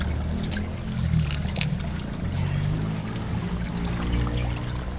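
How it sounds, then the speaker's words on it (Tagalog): Water flows and gurgles steadily nearby, a continuous rushing murmur with no talking. "Ano na yung tubig? Dumadaloy na."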